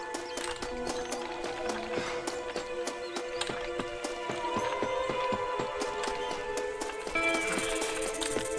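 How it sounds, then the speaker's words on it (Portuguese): Horse hooves clip-clopping in the Red Dead Redemption video game, a brisk run of hard hoof strikes repeating steadily and close over a tonal in-game background, growing slightly louder toward the end. "Eu vou roubar o cavalo nessa fazenda aqui"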